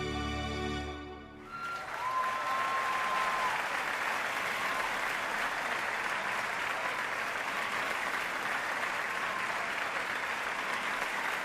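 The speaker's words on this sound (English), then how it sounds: "Round of applause all around." A short musical jingle in The Legend of Heroes: Trails Through Daybreak II gives way to sustained crowd applause that carries on evenly to the end, like a game's victory cheer.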